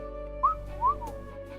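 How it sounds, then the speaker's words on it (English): Two short, sharp whistles sound close and loud, each a quick rising note, heard alone over a steady low hum. "Sharp whistle."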